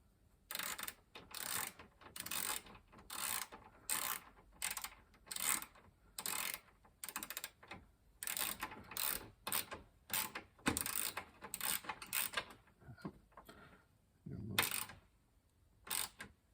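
A ratchet tightens a nut on a mini gearbox, producing long runs of rapid, close clicking in repeated bursts with short pauses between strokes.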